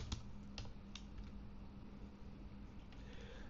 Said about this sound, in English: feel a little bit more sound from my keys because mic is too close and I'm not using a mechanical keyboard